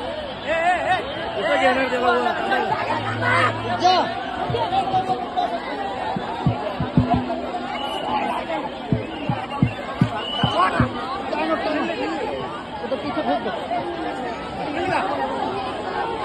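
Dense crowd chatter fills the Lalbaugcha Raja Ganpati immersion procession in Mumbai, a constant close babble of many voices with occasional sharp knocks and shouts.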